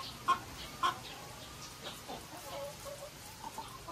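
Layer chickens in a poultry house give soft clucks, with two brief louder calls near the start and faint scattered murmurs over a quiet background.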